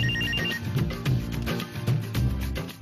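A telephone rings in repeated bursts, loud and close, with no talking over it.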